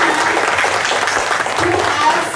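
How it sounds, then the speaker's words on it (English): An audience at a parent orientation for a Class 7 gives a big round of applause for educators, a thick, continuous crowd clapping heard loud and close throughout. "let's give another big round of applause to all our educators"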